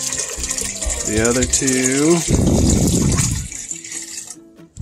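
Water gushes into a big pot for pasta, a loud, close pouring stream for about a second, while someone talks over the start of it before the flow tapers off.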